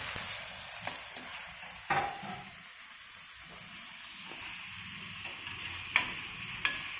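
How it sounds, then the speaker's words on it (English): Sliced onion frying in a pan, sizzling steadily in hot oil with occasional sharp clicks and scrapes as it is stirred, close and moderately quiet, with no voices. "Now put in 1 onion slice, small one. Just make it translucent till it loses its raw flavor."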